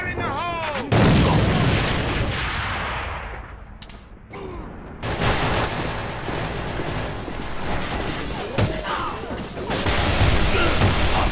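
A grenade detonates in the AVA first-person shooter, a loud crashing blast amid rattling gunfire and echoing explosions, with a shouted voice over the chaos.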